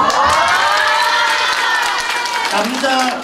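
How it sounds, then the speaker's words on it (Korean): Audience applause and cheering from a crowd at a lecture on statistics about women's lives in Korea, a dense wash of claps with shouts and whoops rising over it, loud throughout. "박수"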